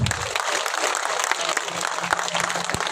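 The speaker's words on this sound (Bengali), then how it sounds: "আমরা সকলে করতালির মাধ্যমে তাকে অভিনন্দন জানাই" A crowd claps in a steady, dense burst of applause to welcome a guest at a sports competition, cultural and prize-giving ceremony, loud and continuous throughout with no pauses.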